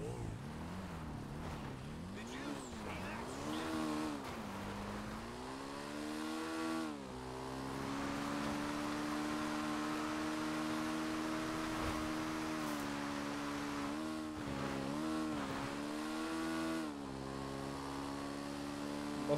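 A motorcycle ridden in GTA Online, its engine revving and wavering in pitch before settling into a steady, sustained drone, fairly close and continuous.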